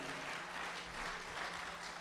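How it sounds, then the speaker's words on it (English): Audience clapping at an evening church crusade in Toronto, a steady continuous wash of applause from a large congregation, fairly faint and distant, with no talk over it. "Clap your hands for Gideon."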